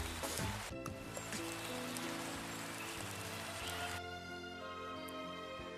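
Autumn rain as a sound effect in a children's musical tale about the autumn forest: a dense, steady patter of falling rain under sustained musical tones, which thin out near the end.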